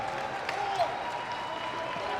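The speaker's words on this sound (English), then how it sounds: "Yeah, and a clap for that guy" Fans applaud number 55 Nick King during an ASEAN Basketball League game between Mono Vampire and San Miguel Alab Pilipinas, a short stretch of clapping from the arena crowd with voices talking over it.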